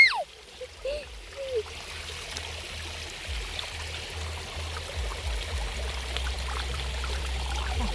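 Water flows with a steady broadband rush near a hillside waterfall, constant and moderately loud, with a low rumble underneath and a brief voice-like sound at the start.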